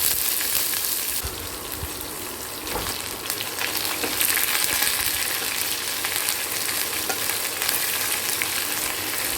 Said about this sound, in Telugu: మనం వేసిన ఆనియన్స్ ఇవన్నీ బాగా ఫ్రై అయిపోయాయి